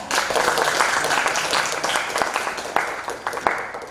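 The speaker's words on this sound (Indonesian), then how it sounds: "Tepuk tangan untuk yang bertiga ya." A room of participants claps for three people at a meeting-procedure training session, a moderate burst of many hands that thins into scattered individual claps toward the end.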